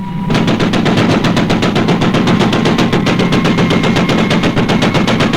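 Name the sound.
gunfire in Supercar episode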